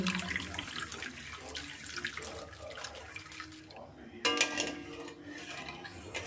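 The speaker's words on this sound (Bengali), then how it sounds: "এরপর সর্ষেটা একটু নাড়াচাড়া করে এর মধ্যে দিয়ে দেবো পরিমাণ মতো জল।" Water poured into a mustard gravy for hilsa curry, a faint running trickle with light clinks of a pot and utensil, close by.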